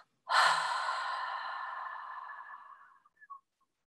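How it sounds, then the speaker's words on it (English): A breathing exercise's nasal inhalation, heard as one close, sustained rush of breath that starts abruptly and fades over about three seconds, ending in a faint soft tail; no talk. "It's a short and a long inhalation through the nose. And a short and a long exhalation through the mouth and the nose."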